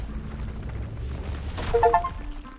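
Rock nodes blasting apart while mining ore in the video game RuneScape: Dragonwilds, a burst of crumbling, crackling debris with bright chiming tones over a low steady rumble of game ambience.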